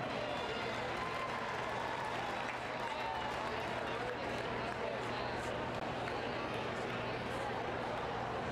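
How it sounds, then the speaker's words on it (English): Applause and crowd noise fill a swimming venue after a men's 100m butterfly B final, a steady broad wash of distant clapping and chatter lasting throughout. "How about a round of applause for the gentleman there in the B final?"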